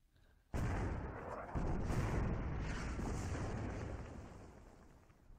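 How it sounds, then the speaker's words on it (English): Artillery opens up in an Iwo Jima battle game with a sudden heavy blast, then a second impact that rolls into a sustained roaring rumble and slowly fades. "artillery."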